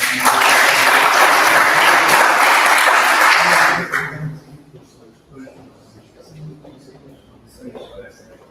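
Audience applause at a live startup demo night, loud and dense for about four seconds before cutting off abruptly and giving way to quiet room noise.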